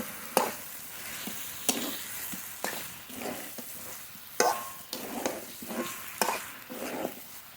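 Chicken pieces stirred with spices in a pan give rhythmic scraping strokes about once a second over a low, steady sizzle, close and fairly quiet, with no voices.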